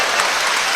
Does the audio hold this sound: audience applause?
yes